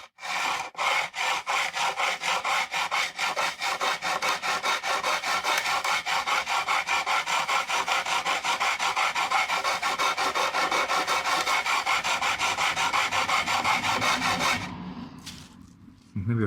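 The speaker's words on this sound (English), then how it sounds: "with this crowning file until you just have a thin line down the middle" A crowning file rasps back and forth along a guitar fret on a new neck, a steady rapid run of close, loud scraping strokes for about fourteen seconds before stopping, with no talk over it.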